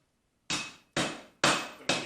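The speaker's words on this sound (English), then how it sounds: "You can feel as you hammer on it," Four sharp, loud hammer blows strike cable Damascus steel during forge welding, each ringing briefly and decaying before the next in a steady rhythm, with no talk.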